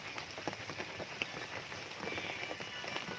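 Rain falls steadily outdoors in a soft, even patter with scattered drop ticks, faint and continuous with no talking.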